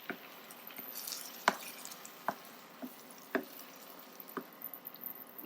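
Crushed garlic is stirred into a thick masala for stuffed baingan, giving soft wet squelches and sticky clicks at irregular intervals, faint and close over a low background hiss.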